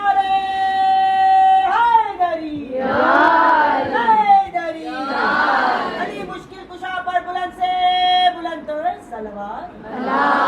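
Crowd at a Shia majlis (religious mourning gathering) answering a leader's call with loud rhythmic chanted slogans, several swelling group shouts in call-and-response over a reverberant hall, a single voice leading between them.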